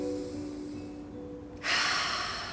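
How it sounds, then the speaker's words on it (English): A soft, deep breath is drawn in through the nose and then let out through the mouth in a long, airy exhale during a seated chair yoga session, with faint steady tones behind it. "Let's do a nice deep inhale through the nose and exhale through the mouth."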